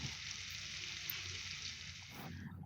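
Spice powders, chilli, coriander and cumin, fry in a pan on a low flame for a cauliflower tomato curry. A soft, steady sizzle runs under light stirring and stops abruptly near the end.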